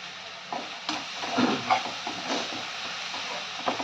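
A cooked mixture for a mashed-potato dish sizzles and gets stirred in a hot pan, with soft scraping strokes and gentle frying crackle at moderate, close volume. No one speaks.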